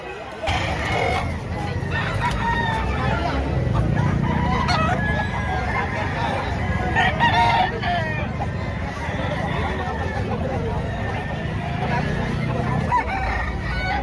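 Roosters crow repeatedly among clucking chickens at a chicken sale, with a busy murmur of people talking in the background throughout.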